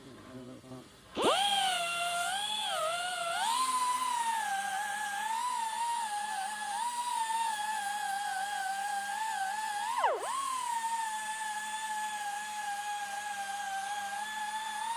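A high-pitched power tool whines steadily while deburring stainless steel plates in a machining shop. The tone wavers a little as the load shifts, with one brief dip in speed partway through and no talking.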